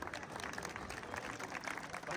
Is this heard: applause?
yes